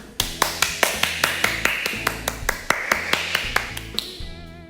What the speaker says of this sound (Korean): 하나님께 감사의 박수를